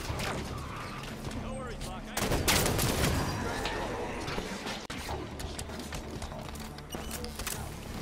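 Gunfire in a video game amid sniper fire and an earthquake, with loud bursts and rattling shots over rumbling game sound, and players talking over it.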